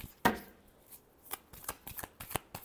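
Tarot cards being shuffled by hand up close, a sharp riffle at the start followed by a rapid series of soft slaps and flicks, quiet and dry with no talking.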